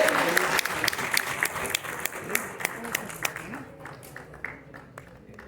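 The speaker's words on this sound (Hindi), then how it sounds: "जोरदार तालियां इंजीनियर राजेंद्र प्रसाद जी के लिए।" Applause honouring chairman Rajendra Prasad at a ceremony, many hands clapping with sharp distinct claps standing out, thinning and fading toward the end, with a voice talking over it.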